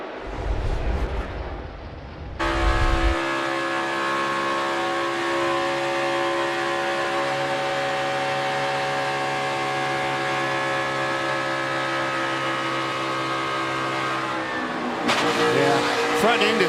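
A NASCAR Cup Series race car at Kansas Speedway roars at high revs in a sustained, loud engine drone with a steady pitch, preceded by rumbling and broadcast talk, and followed by more crowd and track noise.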